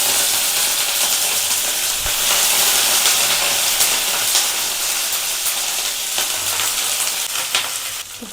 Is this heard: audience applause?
no